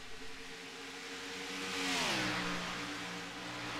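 Race car engines rev in the iRacing sim during a Cup Series race at Texas, a steady mid-pitched drone that climbs and then shifts in pitch midway as a car accelerates, loud and continuous with broadband whoosh.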